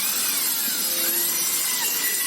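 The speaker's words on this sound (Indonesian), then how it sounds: "Oke, selanjutnya kita proses pengeboran. Ini bor sampai bawah ya." Power drill boring through multiplex board for a computer desk, a steady loud whirring grind that holds without a break.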